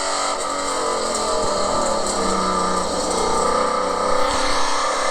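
A car coasting into a corner on a racing drive gives a steady, loud engine and road drone with no sharp revving. The sound stays constant and close throughout.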